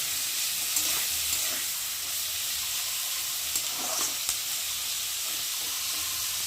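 Potatoes and onions fry in oil while being stirred, a steady hissing sizzle broken by occasional spatula scrapes and clicks, close and unbroken throughout.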